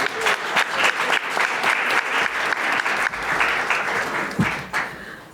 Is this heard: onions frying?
no